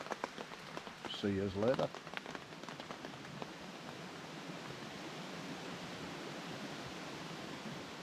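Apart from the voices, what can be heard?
rain falling on a bivvy camp at night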